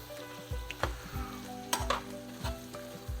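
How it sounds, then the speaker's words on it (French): Pâté mexicain filling cooks in a pan on a stove turned almost to minimum, giving a soft, quiet sizzle broken by repeated scrapes and stirs of a utensil against the pan. "J'ai mis le rond presque au minimum, que ça finisse de cuire"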